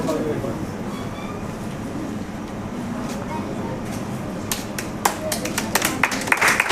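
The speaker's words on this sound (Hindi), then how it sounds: "Come on guys, a round of applause." A crowd at an award ceremony claps in a busy, noisy room, the steady wash of applause joined later by sharper, distinct hand claps near the end, with people speaking underneath.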